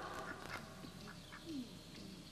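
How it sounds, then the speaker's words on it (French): Cartoon duck quacking in an animated French children's series, several short nasal quacks over a busy background of music and effects, moderately loud with no clear talk. "Qu'est-ce que c'est que ce canard?"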